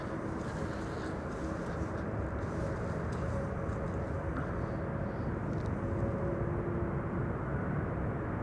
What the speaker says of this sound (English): savor this A319 narrow body from EasyJet coming in from London Gatwick